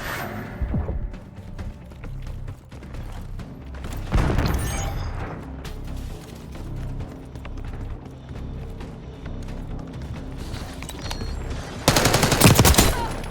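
Gunfire in the video game Black Ops 6 multiplayer beta, with bursts of automatic fire and sharp shots, loudest near the start, around four seconds and again near the end, over steady game ambience.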